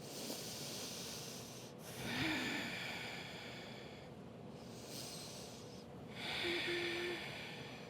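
Slow, deep breaths during a standing yoga pose, close and soft, with two fuller inhale-exhale swells over a quiet background and no talking.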